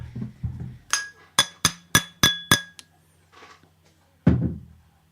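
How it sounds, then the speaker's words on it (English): An empty glass struck against various objects gives a quick series of about six bright ringing clinks, close and alone, followed by a later louder knock. "I have an empty glass. It's okay. It's okay. I'm just going to start hitting it against things."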